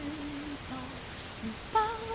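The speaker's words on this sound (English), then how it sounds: "The beginning of the movie is it's raining, and there's like a really terrible rain effect that we all notice at the beginning." A rain effect in the 1960s French musical The Umbrellas of Cherbourg: a steady, even hiss of falling rain under faint sung voices, with a brief louder burst near the end.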